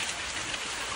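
Steady rain falls in a continuous broadband hiss across the whole second, with dense drops spattering close by and no voices over it.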